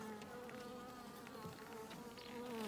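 Bees buzz around a homemade horizontal beehive in a continuous, faint, droning hum with individual insects passing close now and then.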